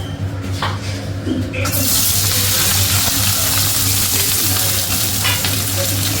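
Two cardamom pods and two dried red chillies sizzle in hot oil, a loud, steady frying hiss that swells after a brief quieter start and holds to the end over a low hum.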